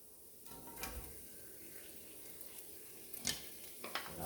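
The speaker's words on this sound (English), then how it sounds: "we're going to add our onions." Onions hitting hot oil in a big skillet, a steady soft sizzle with a few sharper crackles and clinks of a stirring utensil, close by and without talking.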